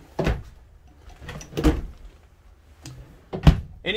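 Drawers in a 2021 Jayco Eagle travel trailer are opened and shut, producing several separate close wooden thunks and sliding knocks at irregular intervals with quiet gaps between.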